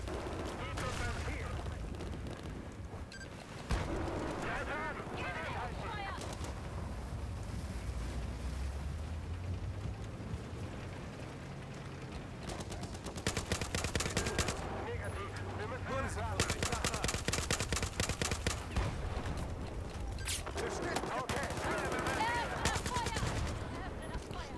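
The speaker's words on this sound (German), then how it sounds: "Die schießen" Gunfire crackles through a chaotic Battlefield 4 battle near a bridge with tanks, bursts rising and falling over steady wind and engine rumble for most of the stretch, while players talk over it.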